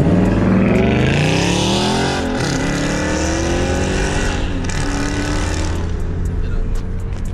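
A car accelerating hard in sport mode, its engine loud and close with rising, sweeping engine tones that climb and shift through gears, a continuous strong roar throughout with no talking over it.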